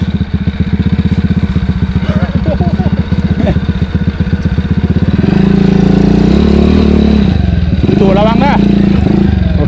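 A Honda CT125 motorcycle engine on an off-road trail, loud and close, thumping rhythmically before rising into a sustained strained rev, with people talking over it.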